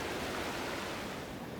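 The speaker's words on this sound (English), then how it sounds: "you can see the sludge beneath your feet roaring away" Wastewater sludge roars beneath a metal grid at a treatment works, a steady, dense rushing wash like a fast brown river, loud and continuous with no voices.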